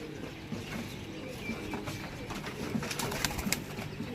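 Several pigeons coo softly at close range among light rustling and clicks, with a faint background murmur and no clear speech.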